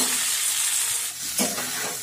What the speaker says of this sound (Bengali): এখন আমি দিয়ে দিচ্ছি গ্রিন ফুলকপিগুলো বা ব্রোকলি, এগুলোকেও আমি এখন খুব ভালোভাবে পাঁচ মিনিট ধরে মিডিয়াম আঁচে ভেজে নেব।